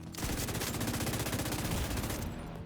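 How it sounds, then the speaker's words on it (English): Rapid automatic gunfire from a hostile sniper turret in a video game, a fast steady burst of shots for over two seconds, close and sustained, then cutting off abruptly. "Hostile sniper turret detected."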